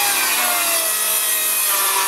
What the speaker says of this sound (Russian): Распускаем теперь на брусочки.